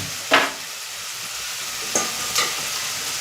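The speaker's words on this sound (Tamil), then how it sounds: "கருவேப்பிலை போட்டு வதக்கிக்கலாம்." Green chillies, dried red chillies, onion and curry leaves being sautéed in a pan give a low, soft sizzle with a few sharp scraping stirs of a spoon, close and without voices.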